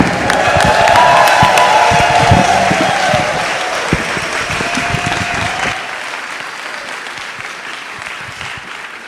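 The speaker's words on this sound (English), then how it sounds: "I feel bad about stopping that applause." Loud audience applause mixed with cheering at a grant winner celebration honoring changemakers, dense clapping peaking early, then thinning and fading toward the end with a few scattered claps.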